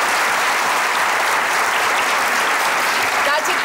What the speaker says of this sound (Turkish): Yani gerçekten alkışlamanızı durdurmayın.